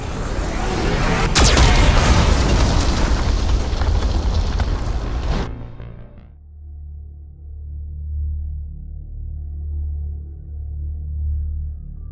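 Geth cannon firing in Mass Effect 2, a loud sustained roaring blast with a sharp crack early on, then cutting off to a low rumbling hum.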